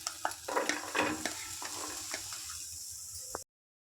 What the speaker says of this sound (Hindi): सबसे पहले गार्लिक को एक पैन में हल्का सा रोस्ट कर लें।